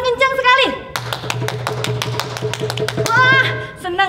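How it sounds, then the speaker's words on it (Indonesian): Loud, rapid hand clapping from a group of children at an online Sunday school session comes in a burst of about a dozen sharp claps, with speech and cheering before and after. "yuk adik-adik tepuk tangan dulu yang kencang sekali"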